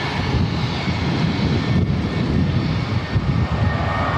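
Air New Zealand's All Black Boeing 787 at Auckland Airport at night, a steady loud jet roar holding level throughout with no break and no talking.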